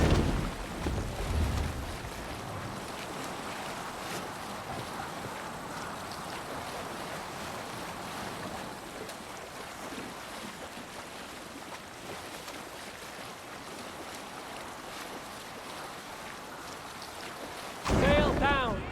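Sailing at sea in Assassin's Creed Valhalla gives a steady wash of wind and waves against the boat's hull, broad and continuous, with a louder surge at the start and again near the end.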